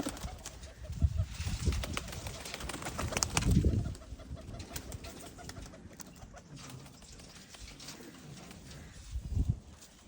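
Pigeons coo softly in low, throaty bursts, with rustling and scattered ambient noise around them and a louder coo near the start.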